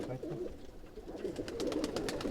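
Punjabi pigeons in a loft give a steady, soft murmur of cooing throughout, several birds close by and overlapping with no clear pauses.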